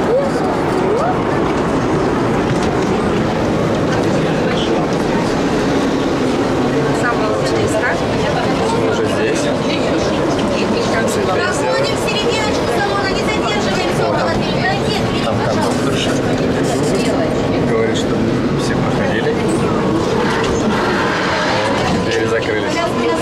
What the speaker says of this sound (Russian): сядем на вот этот трамвай и поедем до улицы Фрунзе